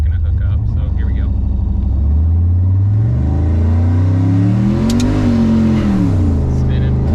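A car engine fitted with Holley Terminator X EFI revving hard in first gear as the wheels spin, a loud, steady engine note rising and falling in pitch throughout, with someone talking over it.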